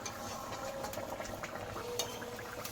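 A pot of meat and potato curry bubbles at a steady boil, a dense close gurgling and popping simmer with faint stirring, continuous and unbroken; no voices.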